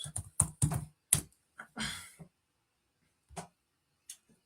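Typing on a computer keyboard comes as a quick cluster of clicks and taps, then a couple of isolated keystrokes after a pause, close and fairly quiet.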